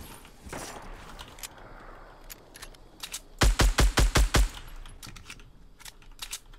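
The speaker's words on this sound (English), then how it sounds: "Oh, he's getting shot." Fortnite gunfire crackles in a quick burst of about six evenly spaced, loud shots mid-clip, with scattered fainter shots and footstep-like taps around it.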